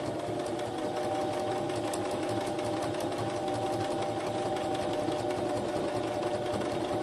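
Sewing machine stitching fabric for a journal cover, a steady close mechanical whir with fast even needle ticks that run unbroken for several seconds.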